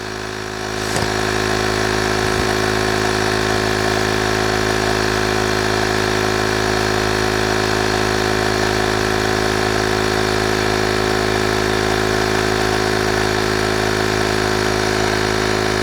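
A portable tire inflator runs steadily, filling a tire with a nail in it to pressure: a loud constant motor drone with a strong hum that starts after a soft click and continues unbroken.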